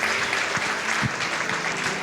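Dense, sustained applause from a conference audience at a county housing event, a broad wash of many hands clapping continuously with a few louder claps poking through.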